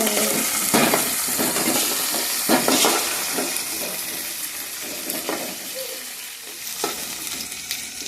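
Sliced onions, green chillies and curry leaves sizzle loudly in a hot pan, with steady frying hiss and occasional stirring scrapes throughout.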